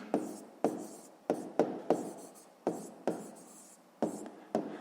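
A pen or pencil scratches out short strokes on paper as a math answer is written down, about a dozen quick close strokes in an uneven rhythm, quiet and with no speech.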